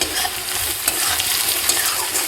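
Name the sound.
garlic frying in oil while stirring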